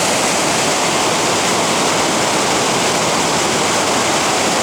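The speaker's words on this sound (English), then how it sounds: "This river is just flying down here." Swift Cross River current in Minnesota pouring downstream, a dense, constant roar of turbulent water heard up close and unbroken, with no talking.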